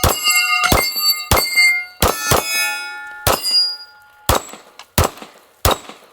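Pistol rounds striking a steel Texas star target ring out as about nine loud, sharp metallic clangs, each with a bright ringing tail, fired at uneven intervals roughly half a second to a second apart.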